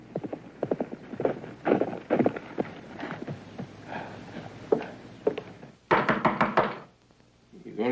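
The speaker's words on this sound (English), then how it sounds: "You gonna stand there and knock all day long?" Knocking on a wooden door in a Western cowboy film, a few sharp knocks near the end following stretches of footsteps and clip-clop sounds, with no talk over them.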